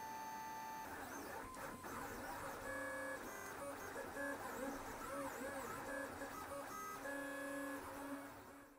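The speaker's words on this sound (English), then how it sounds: "the printer's about halfway through" A 3D printer hums and whines as its motors step through moves, with shifting tonal chirps over a steady mechanical drone.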